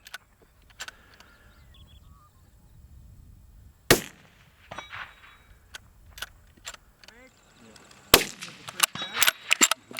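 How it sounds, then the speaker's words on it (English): A Tikka T3 rifle fitted with a full-barrel silencer fires on an outdoor range, producing sharp muffled cracks spaced several seconds apart, followed by faint rattles and clanks, with short bursts of talk between them. "he's just been hitting 5 out of 5 on the gong there at 200"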